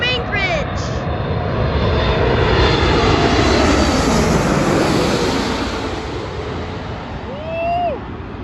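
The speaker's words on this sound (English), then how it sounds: "Here's another 747," A Boeing 747 cargo jet, arriving from Anchorage at the UPS hub in Louisville, Kentucky, roars loudly and steadily as it passes close by, a broad engine rumble with whining tones that slowly fades, while spectators whistle and call out.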